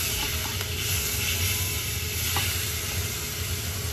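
Swordfish fillet sizzles steadily in a hot frying pan, a constant, fairly quiet hiss with a few soft pops and no talking over it.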